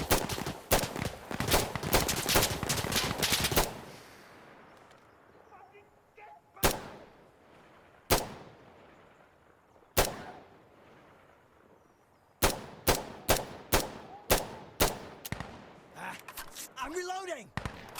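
Rifle gunfire in a multiplayer shooter game, with a fast burst of close, loud shots at the start, three spaced single shots through the middle, then another rapid run of shots near the end, mixed with players talking.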